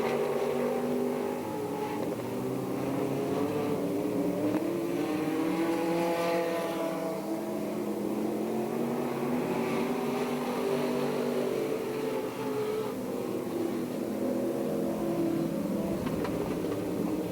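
Stock cars roar around the Perris, California dirt oval in a close race, a steady, loud, layered engine drone with shifting pitch as cars pass and accelerate, continuous throughout.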